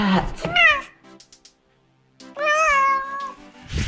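A pet cat at home meows twice, close and loud, with a short yowl followed by a longer drawn-out meow after a brief pause.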